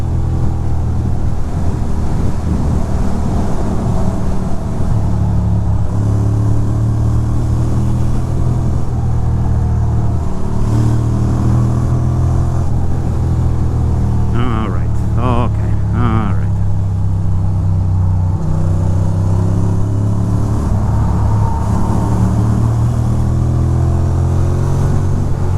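A Ducati motorcycle is ridden through New York City on a cold 35°F morning while running poorly, its engine a loud continuous drone under heavy wind roar, with a few rising revs; no clear talk.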